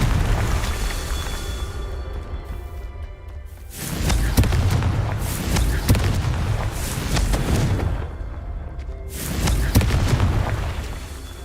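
Confringo fire spell explosions in Hogwarts Legacy, repeated booming blasts with crackling bursts every few seconds over rumbling game ambience, loud and close with no speech.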